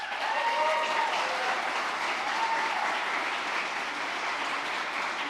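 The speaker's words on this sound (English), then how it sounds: "Let's give them a round of applause" Steady audience applause fills a White House town hall on gun violence prevention with school principals present; the dense, even clapping holds for several seconds at a moderate, somewhat distant level, with no talking over it.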